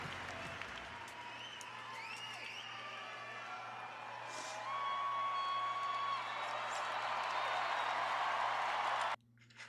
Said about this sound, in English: The cheering is weird.